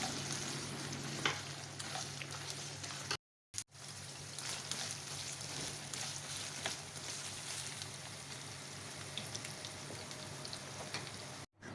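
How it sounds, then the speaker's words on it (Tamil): Paneer fries lightly in oil while Paneer Butter Masala is being made, giving a steady, soft crackling sizzle that holds evenly throughout, apart from one brief drop to silence. "அதே எண்ணெயில் பன்னீரும் கொஞ்சம் லைட்டாக கொஞ்சம் வதக்கி நம்ம எடுத்து தனியாக எடுத்து வச்சிடலாம்"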